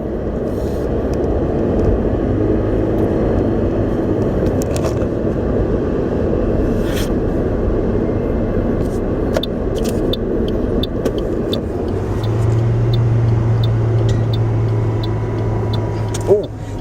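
A Toyota Prius cruising on the road at about 95 km/h gives a steady, even rumble of tyre and road noise that stays constant throughout, with no voices over it.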